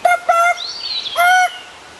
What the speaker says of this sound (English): But if you listen, that's a bird noise.